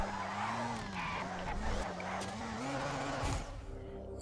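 A car drifting through a container section in Yokohama in Race Driver: GRID, its engine holding a steady whining note while tires skid and squeal for several seconds before the sound drops away.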